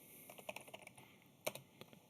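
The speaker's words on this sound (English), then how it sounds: "Then we're going to type in what we want to boot." Keystrokes on a computer keyboard while entering a boot command, a quick run of close, light clicks with one sharper tap near the middle and a few scattered presses after, no voices.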